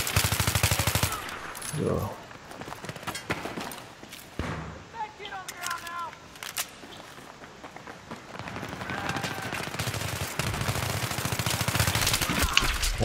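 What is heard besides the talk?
M4 Carbine gunfire in Battlefield 3 video game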